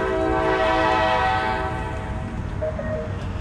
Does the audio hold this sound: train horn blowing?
yes